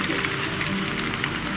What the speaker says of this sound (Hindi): ऑयल हमारा गर्म हो गया, अब हम इस पर अनियन डालेंगे